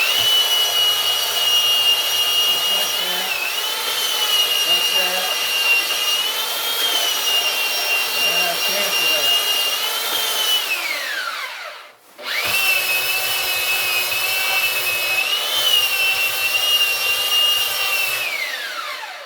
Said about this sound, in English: I get my belt sander, and I sand it a little bit.